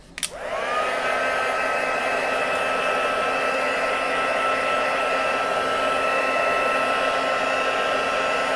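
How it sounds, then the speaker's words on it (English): A handheld heat gun drying embossing paste on a stenciled card clicks on and then runs as a loud, steady, close-up whooshing whir for about eight seconds without pause. "We'll give that a bit of a dry with the heat gun."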